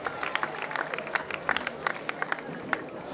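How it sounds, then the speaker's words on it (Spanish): Crowd claps and cheers at a bull-running street festival in Azagra after a daring move before a cow, scattered claps and shouts rising over a steady outdoor crowd murmur. "¡Fuerte aplauso para él!"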